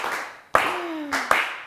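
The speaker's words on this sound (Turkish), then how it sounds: "Üzgün alkış." A few scattered hand claps of sad, sparse applause on a game show, close and brief, with two sharp slaps standing out against a quiet background.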